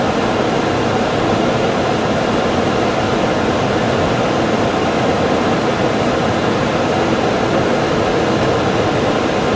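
A car heater fan blows at a low speed setting, a loud, steady broadband whoosh of air that stays constant throughout with no voices.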